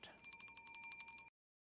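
A pulled servant call bell in a castle rings in a fast, bright metallic trill for about a second, close and clear, then cuts off into silence.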